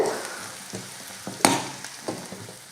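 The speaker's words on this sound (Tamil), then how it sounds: "பக்கோடாவை சேர்த்ததுக்கப்புறமா சும்மா லைட்டாக இந்த வெங்காயத்தோடு சேர்த்து கலந்து கொடுத்துக்கோங்க" Pakoda is lightly tossed with onions in a frying pan: a low sizzle under several spaced scrapes and one sharp clack of a utensil against the pan.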